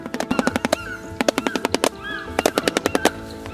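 A shoebill clatters its bill in rapid, hollow bursts, three rattling series separated by brief pauses, loud and close.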